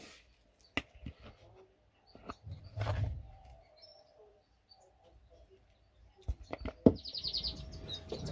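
Canaries in a bird room give scattered chirps and short tweets amid clicks, knocks and quiet gaps, with a brief burst of rapid trilling song toward the end, at a close to moderate distance.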